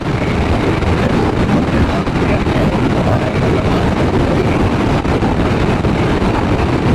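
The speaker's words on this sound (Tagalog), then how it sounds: "Malakas talaga ang hangin" Loud, blustery wind roars steadily against the microphone at the Mapita Viewdeck in Pangasinan, Philippines, a dense rumbling rush that never lets up, with no voices.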